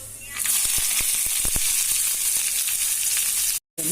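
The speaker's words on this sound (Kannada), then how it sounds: "ಉಳ್ಳಾಗಡ್ಡಿ ಹಾಕೊಳ್ತೀನಿ" Finely chopped onions hit hot tempering oil with mustard seeds for a potato palya, bursting into a loud, steady sizzle with a few sharp crackles and pops near the start.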